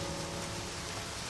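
Steady rain falls in the video game Deadly Premonition, a dense, even hiss of drops on surfaces, faint and continuous without voices.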